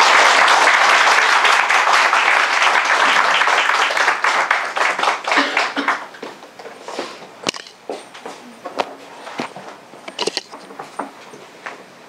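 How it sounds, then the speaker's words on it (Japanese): Loud, dense audience applause at a church service holds steady, then thins into scattered, uneven claps and fades out over the last several seconds. "はい、そして拍手も。"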